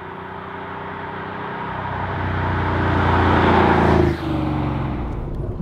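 Porsche 964 flat-six engine pulling hard and close, its tone rising steadily before a sudden dip as it shifts, then continuing strongly.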